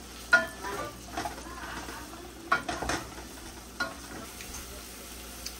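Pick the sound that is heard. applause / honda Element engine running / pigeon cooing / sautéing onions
sautéing onions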